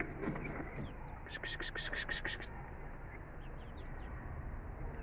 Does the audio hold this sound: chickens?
yes